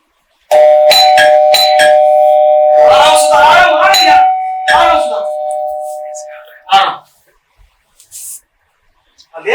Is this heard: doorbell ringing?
yes